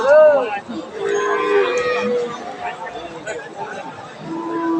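A Holstein Friesian cow moos loudly at a busy cattle market, with a long low call at the start. Crowd chatter and voices carry on underneath throughout.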